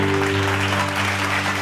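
Audience applause in a Bible study gathering, steady dense clapping filling the whole short moment at close, loud level with no talk over it.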